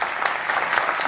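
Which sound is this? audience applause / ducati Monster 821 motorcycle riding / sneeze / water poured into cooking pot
audience applause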